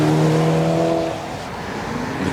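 A Ferrari California, a newer special version, drives past on a racing circuit. Its engine note is loud and steady at first, then fades and drops as the car moves away, with no talk over it.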